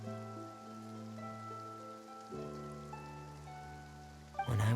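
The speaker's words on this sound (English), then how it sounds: "every time it weeps, the skies will cloud up and pour out rain." Rain falling in Genshin Impact's rainy Fontaine region: a soft, steady wash that sits beneath sustained tonal music and fades in and out with it, ending in a brief louder swell.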